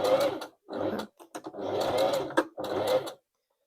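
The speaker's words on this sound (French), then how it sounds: "Je fais un point d'arrêt au début et à la fin de ma couture." A sewing machine stitches a seam on a zipped sponge-fabric pouch in four bursts of steady whirring, each running about half a second to a second, separated by brief pauses, close and clear with no talk.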